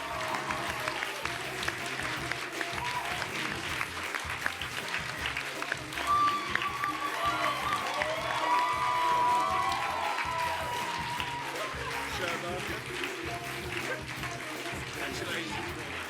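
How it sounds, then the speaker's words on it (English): Sustained applause and light cheering from an audience at a volunteering awards ceremony, fairly distant and moderate in level, with voices mixed into the clapping. "Thank you very much for everyone applauding and stuff."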